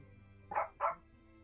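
Dog barking loudly, two quick close barks about a quarter second apart over a low steady background hum.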